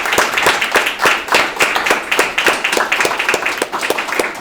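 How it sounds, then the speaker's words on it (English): A seminar audience at the LinuxFest Northwest 2025 conference applauds, loud distinct claps from a modest crowd in a quick, fairly regular rhythm that lasts several seconds without speech. "And you guys deserve a round of applause."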